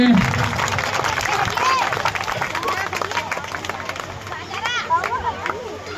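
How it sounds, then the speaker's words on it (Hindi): Children clapping in welcome at an outdoor village celebration of Babasaheb Ambedkar's birthday, uneven, moderately loud applause mixed with crowd chatter and people talking nearby. "बच्चे तालियों से स्वागत करेंगे।"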